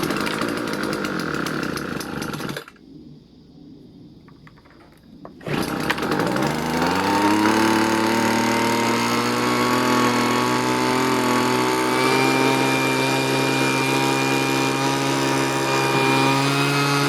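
A small Homelite Mighty Lite leaf blower engine runs loud and close with a buzzing two-stroke whine. It cuts out into a brief quieter lull, then restarts and revs up to a steady high-pitched drone that holds to the end.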